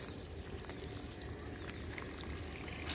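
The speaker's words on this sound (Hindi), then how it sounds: "अब ये मेरा चल रहा पानी।" Water from a hose runs steadily onto garden plants, a continuous soft pouring and trickling wash, fairly quiet and unbroken with no voices.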